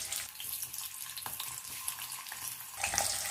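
Potatoes fry in hot oil in a kadai, a steady broadband sizzle with scattered crackles and pops, close and continuous for the whole stretch with no voices.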